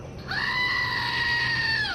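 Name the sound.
screaming goat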